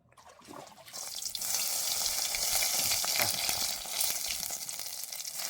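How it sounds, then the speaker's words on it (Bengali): Crab sizzles loudly in a pan with ginger and garlic. The sound starts with a short quiet lead-in, then holds a dense, continuous crackling hiss with faint stirring scrapes. "আদা রসুন দিয়ে কাঁকড়াটা কষাই করে নেওয়া হচ্ছে।"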